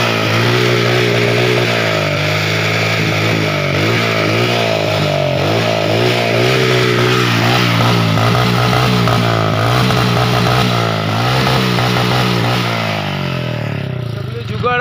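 Modified Hero Glamour 125cc kick-start motorcycle idling steadily nearby with a loud, throaty exhaust and small revs throughout, while someone talks over it.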